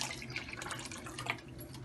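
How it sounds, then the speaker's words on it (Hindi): Water pours into a pot of partly cooked rice, a short, soft splashing trickle heard up close and fairly quiet, with no talking. "अब हम डालेंगे इसमें 1 कप पानी"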